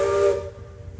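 A steam train whistle at a riverside theme-park attraction gives a steady tonal blast with breathy hiss that cuts off after a moment, leaving a low rumble, alone with no voices.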